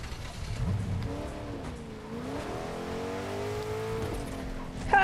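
A car in the Fortnite video game, its engine note rising and falling as it drives and revs, fairly quiet with a low rumble underneath.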